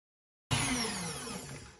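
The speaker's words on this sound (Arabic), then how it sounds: "هلأ بنخفق على سرعة بطيئة" An electric mixer on low speed whisks cake batter of lemon juice, cocoa and flour, starting abruptly after a silence and then holding a steady whirring drone.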